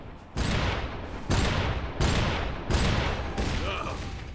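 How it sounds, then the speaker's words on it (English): Shotgun blasts fired at close range in the video game Iron Brigade, five heavy booming shots spaced about a second apart, each trailing into a rumbling tail, loud and close. "Oh, the shotgun is so much more fun up close."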